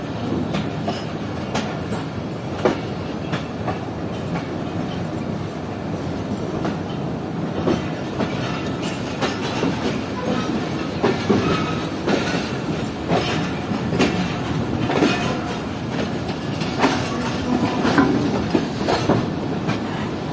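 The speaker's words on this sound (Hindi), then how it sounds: "तकरीबन 25 मिनट रुकने के बाद हमारी ट्रेन इस वक्त निकल रही है रोहिड़ी जंक्शन रेलवे स्टेशन से" The Awam Express passenger train departs Rohri Junction railway station, heard from inside a lower AC coach: a steady rumble with rhythmic wheel clacks and occasional squeals that keep up throughout.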